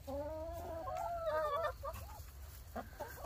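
Hens cluck close by inside a backyard chicken coop, a run of rising, warbling calls followed by a few quieter, broken clucks.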